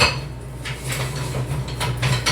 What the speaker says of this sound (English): just whisk that until it all combined